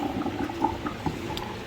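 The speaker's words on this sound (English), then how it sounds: "Just gonna pour my pasta out" Soft wet splashing and sloshing as pasta and liquid pour out into a bowl, a steady low watery rush with small plops, close and fairly quiet.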